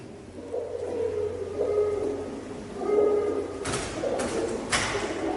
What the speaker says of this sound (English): Is that a pigeon?